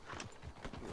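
Horse hooves clip-clop at a walk in the game Red Dead Redemption 2, a quick run of soft, faint hoofbeats on the ground over about a second with no talk.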